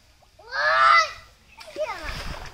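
A child swimming kicks and splashes in water at close range, with short splashes under an adult voice giving instructions and a voice.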